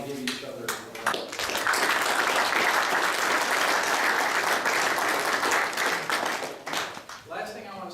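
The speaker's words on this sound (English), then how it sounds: "you ought to give each other a round" An audience at a university engineering design event bursts into a dense round of clapping that swells, holds for several seconds, then thins out, with a voice briefly audible at the edges.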